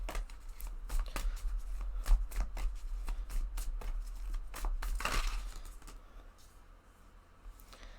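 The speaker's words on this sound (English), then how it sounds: "Let me see if I can shuffle on screen." Cards are shuffled in quick riffling flicks over a low hum, then a longer riffle, with the sound fading toward the end.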